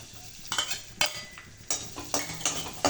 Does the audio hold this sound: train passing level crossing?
no